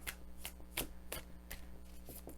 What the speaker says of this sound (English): then I just riffle shuffle to get them out